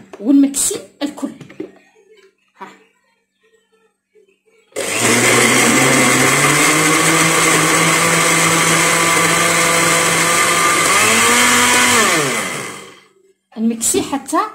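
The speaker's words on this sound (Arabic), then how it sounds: "نمكسي حتى نتحصل على السائل" An electric blender whirs loudly and steadily for several seconds, blending bananas, cake biscuits and flan mix into a liquid, with the motor pitch shifting slightly as the mixture thins; someone talks briefly before and after.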